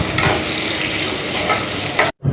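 Shallots and curry leaves sauté in hot oil with a steady, dense sizzle and stirring scrapes for about two seconds, then cut off abruptly into brief silence before a final burst.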